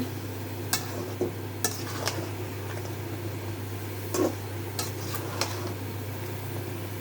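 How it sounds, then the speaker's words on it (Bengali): Bottle gourd stirred in a pan for a fish curry, with a few sharp utensil scrapes and taps spread over a steady low hum and faint background sizzle. "লাউটা দিয়ে দিলাম, নাড়া দিচ্ছি।"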